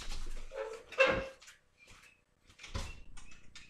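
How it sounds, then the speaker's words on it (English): A dog gives a couple of short barks and whimpers indoors in a kitchen, with clattering and rustling around it and quiet gaps between. "That's just my dog, Bruno."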